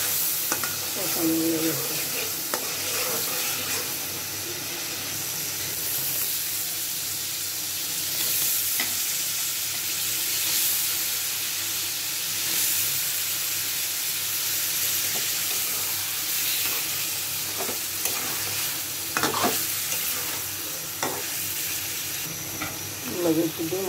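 Spice masala frying in oil in a home kitchen, a steady sizzle with stirring scrapes that runs throughout, with a voice speaking briefly over it.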